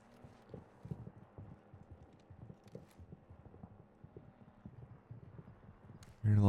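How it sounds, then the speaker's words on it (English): Many small footsteps patter beneath the player in the video game DMZ, a quiet, steady run of soft irregular steps, somewhat distant and muffled, with a louder thump at the very end. "I hear lots of little footsteps beneath me."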